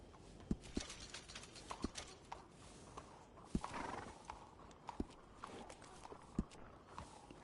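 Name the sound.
horse neighing and hooves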